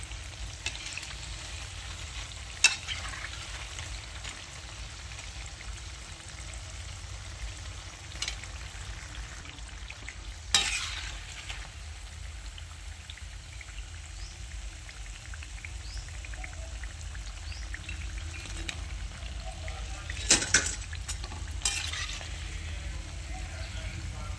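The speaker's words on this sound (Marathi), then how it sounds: "मस्त असे गोल्डन असे आपले वडे तळून झालेले आहे" Dahi vada frying in hot oil, a steady, soft sizzle running throughout, with a few brief clinks and bumps from a utensil now and then.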